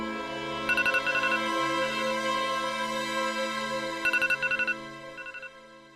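A phone ringtone plays a sustained melody, with quick clusters of bright beeping notes near the start and again later, at moderate volume.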